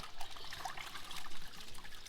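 Water pours and trickles over a flexible gold sluice mat as it is tilted open and washed out beside a creek, a steady close splashing rinse with no talk.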